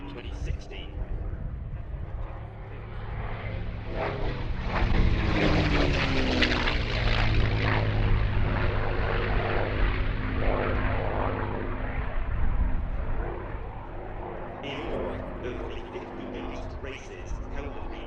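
Propeller drone of a P-51D Mustang warplane flying at the Shuttleworth Festival of Flight air show, a steady loud engine roar that swells and fades as the aircraft passes, with a voice talking over it throughout.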